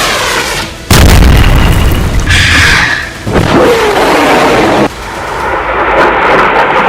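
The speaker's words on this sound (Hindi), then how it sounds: "इजराइल का ये डिफेंस सिस्टम फौरन एक्टिव हुआ और उसने हुथी की बैलिस्टिक मिसाइल को मार" Houthi ballistic missile intercepted by an Israeli long-range defense system: a loud, sudden booming blast followed by sustained roaring rumble and a second heavy surge, distant and overwhelming, no voices.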